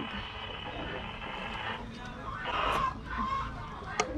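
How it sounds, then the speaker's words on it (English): Chickens on a farm, including Buff Orpington hens, cluck and call in a busy pen, with a steady ambient wash and brief higher calls standing out. "Look at the chickens."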